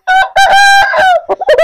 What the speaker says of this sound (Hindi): जबरदस्त मुर्गा है प्यारे भाई